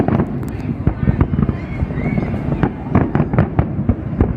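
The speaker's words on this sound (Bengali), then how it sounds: "ফেস্টিভ্যাল সিটির ফায়ার ওয়ার্কসটাও দেখে ফেললাম। ও শুরু হয়েছে," Fireworks over Festival City in Dubai crackle and pop in rapid scattered bursts at a moderate distance, with a steady crowd murmur beneath and occasional sharper bangs.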